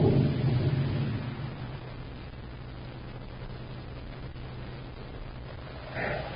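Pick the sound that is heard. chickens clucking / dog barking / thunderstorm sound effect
thunderstorm sound effect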